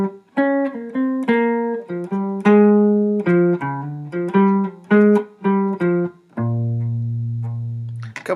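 A run of distinct plucked guitar notes from a jazz etude, some short and clipped, others ringing, ending on a long sustained low note; no talking.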